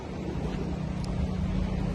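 Cold, strong wind blows in Ilocos Norte, a steady loud buffeting rush across the microphone with low rumble throughout and no pauses.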